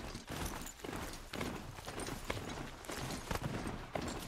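A horse mount in the video game Horizon gallops, its hooves striking in a quick rhythmic clip-clop, steady throughout.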